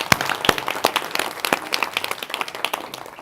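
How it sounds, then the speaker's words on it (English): Audience applause during a campus day morning session, a lively patter of many hands clapping at close range with sharp individual claps standing out throughout. "So that's a round of applause as well."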